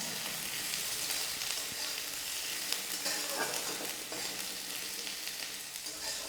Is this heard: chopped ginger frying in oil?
yes